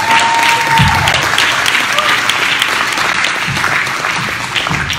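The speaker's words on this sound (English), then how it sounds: "please give him another round of applause." An audience at a public meeting on 1921 mass graves breaks into sustained, loud applause, steady clapping filling the room for several seconds with a few faint voices mixed in.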